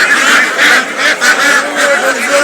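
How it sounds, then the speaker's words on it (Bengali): Belgian ducks at a busy market give repeated honking quacks in a steady chattering rhythm, fairly loud and close, with overlapping calls from several birds and no clear talk. "ওই বেলজিয়াম হাঁস ভাই, এটা বেলজিয়াম হাঁস।"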